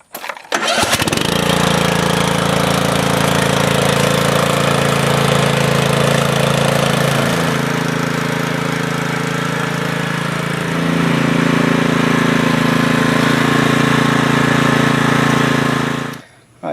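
Troy-Bilt riding lawn mower engine starting and running steadily close by, a loud continuous mid-pitched drone with a couple of brief shifts in pitch before cutting off at the end.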